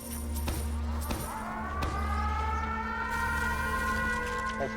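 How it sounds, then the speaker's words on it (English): A Team Fortress 2 map's air raid siren wails and rises in pitch, heavily distorted and peaking, over a low rumble of game noise with sharp impact thuds. "Anytime the map uses airdropping robots, the map's air raid siren sounds"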